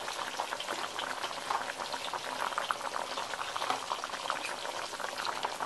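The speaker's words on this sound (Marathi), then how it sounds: "आपल्या चिकनच्या रश्श्याला खूप चांगली उकळी आलेली आहे" Village-style chicken curry gravy boils vigorously in a pot, a dense, close, constant bubbling and rolling seethe that holds steady throughout with no voices.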